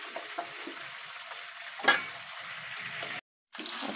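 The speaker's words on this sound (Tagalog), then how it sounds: "At yung ating namang gulay ay kumukulo na." A vegetable stew with squash bubbles and sizzles steadily in a pan, close and moderately loud, with a brief louder burst midway and a short dropout near the end, no talking.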